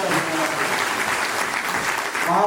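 A crowd claps loudly at a Guru Purnima public event in Raipur, a dense, continuous burst of applause that stays steady throughout with no voices over it.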